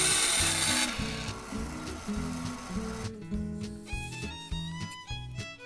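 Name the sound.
hand sawing wood up to a marked line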